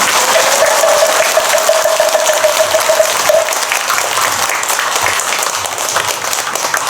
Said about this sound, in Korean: 다시 한번 오늘 좋은 법문 해주신 스님께 큰 박수 부탁드립니다